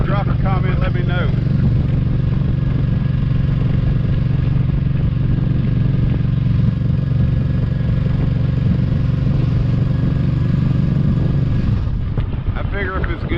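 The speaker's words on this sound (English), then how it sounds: "Anyone else that drives a motorcycle, y'all do this for the first couple minutes or first couple seconds to warm the tires up?" A motorcycle rides along with its tires being warmed up, giving a steady, close engine drone mixed with rumbling wind buffeting that eases off near the end.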